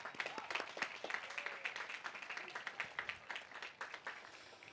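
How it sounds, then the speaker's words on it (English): Applause from a crowd at a 2024 high school graduation ceremony, with dense overlapping clapping sustained throughout at a moderate distance and a few faint voices mixed in. "just to give you another round of applause"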